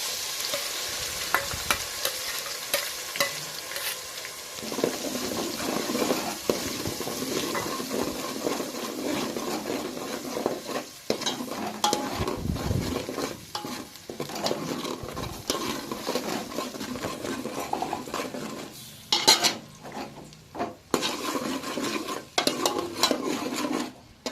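Onion gravy fries in a pan over ginger-garlic paste for a dhaba-style paneer curry, a steady close sizzle broken by repeated scraping stirs and clinks of a spoon against the pan, with no talking.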